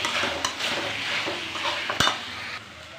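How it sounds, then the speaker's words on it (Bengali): Fried potatoes are stirred into a spice masala in a pan, with soft sizzling under a metal spoon scraping and occasionally clinking against the pan, close and continuous. "তো এখন আলুগুলো ঢেলে দেবো, দিয়ে একটু ভালো করে কষাবো আলুর মধ্যে মশলাটাকে।"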